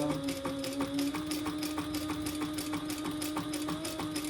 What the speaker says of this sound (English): I'm just gonna back stitch